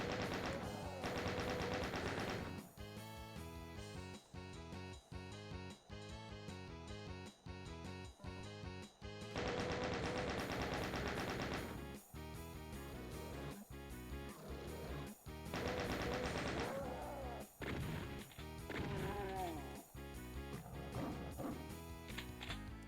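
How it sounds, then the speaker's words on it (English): Repeated enemy gunfire and weapon blasts in the 1993 PC shooter Doom, played on Ultra Violence in Knee Deep in the Dead: loud, steady bursts of shots and impacts over game music, with no talking. "Who's shooting at me?"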